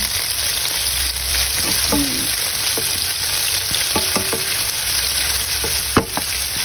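Onion and garlic sautéing in a hot pan for ginisang monggo, a loud, steady close sizzle with occasional scrapes and clinks of a utensil stirring, and no voices.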